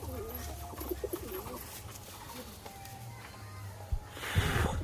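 Andhra pigeons coo softly in a loft, several low throaty calls near and far with quiet rustling, ending in a short flutter of wings.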